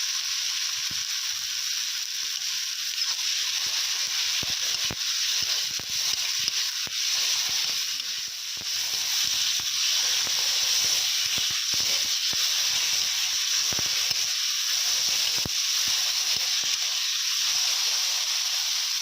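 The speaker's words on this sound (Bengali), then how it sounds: "আদা রসুন বাটা ভাজা হয়ে এসেছে" Ginger-garlic paste with turmeric frying in hot oil, a continuous bright, even sizzle held close and steady throughout with faint crackles, no voices.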